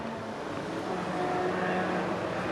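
Race cars from a 1970s road sports and 1980s sports and GT field, including a Porsche 924, roar past at Cadwell Park circuit, a steady loud engine drone with tonal whine sustained throughout and no talk.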